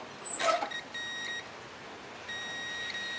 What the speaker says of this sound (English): you can hear that there is continuity grounding it out, so we know that the coil is bad